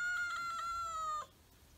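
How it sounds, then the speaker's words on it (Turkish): A cat gives one long, drawn-out meow, clear and close, which stops abruptly with nothing after it. "Kediyle atışıyoruz anne."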